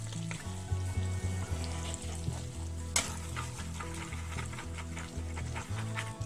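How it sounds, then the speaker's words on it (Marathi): Whole spices sizzle and crackle in boiling butter in a pan, making a steady, fairly quiet frying hiss with small pops and a low hum beneath. "आपण घेतलाय थोडासा खडा मसाला आणि आता आपलं बटरला देखील उकळी आलेली आहे"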